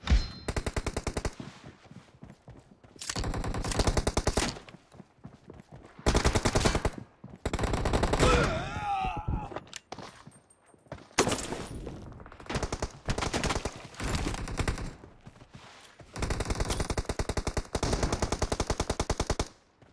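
Rapid bursts of shotgun and automatic gunfire from the mobile battle game BGMI in a warehouse team deathmatch, loud repeated volleys separated by short pauses, with game effects between shots.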